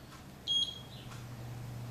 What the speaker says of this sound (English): The alarm will indicate timing has begun.